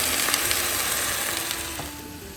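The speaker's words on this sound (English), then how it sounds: "I'm going to add in our baby kale first." Baby kale sautéing with onions in a pan, a steady close hiss of frying with a few soft crackles, fading slightly toward the end and heard without talk.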